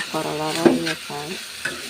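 Bitter gourd fries in a pan with a soft sizzle while a utensil stirs and scrapes it in a few close, uneven strokes.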